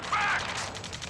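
Automatic gunfire in the Ace Combat 7 flight combat game, a rapid, evenly spaced rattle of shots running the full length, loud and close with a noisy battle wash behind it.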